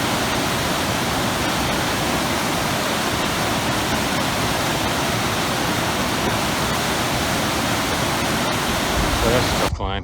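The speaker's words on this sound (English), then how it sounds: "Beautiful river." A river rushes steadily in a dense, unbroken roar that fills the whole span, loud and close, with no voices over it.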